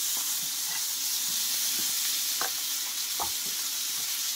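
Ash gourd stir-fried in a pan for a traditional curry: a moderate, steady sizzle broken by a few short spatula scrapes and stirs, with no talk.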